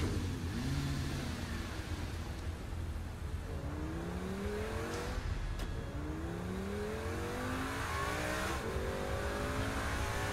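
Engines rev up and down repeatedly with rising and falling whines as cars race past in the video game Saints Row IV, over a constant low hum.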